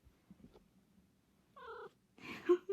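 A cat gives a couple of short, soft meows near the end after some quiet rustling, close and gentle.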